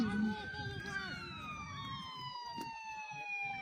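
Several emergency vehicle sirens sound together on a Worcester street during a protest. The steady, slowly sliding wails stay loud and continuous throughout, with faint crowd noise and a brief voice beneath them.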